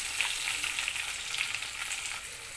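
Finely chopped tomatoes and curry leaves frying in a pan for okra palya, a steady, soft sizzle with faint stirring, close and unbroken.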